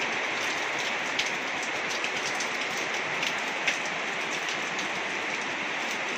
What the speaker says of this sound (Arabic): المطره مطره جامده يعني، مش شويه شتا وخلاص، لا